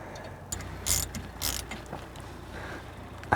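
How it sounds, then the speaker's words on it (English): A retaining bolt is threaded into a brake disc on a BMW E90 325i, giving a few light metallic clicks and ratcheting scrapes, close and fairly quiet with no speech. "And we can insert the retaining bolt."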